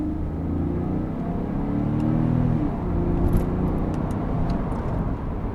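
Porsche 911 997 Carrera S with Tiptronic automatic, heard from inside as its engine climbs through the revs and drops at a quick gear change, then pulls again as a steady, fairly loud cabin drone.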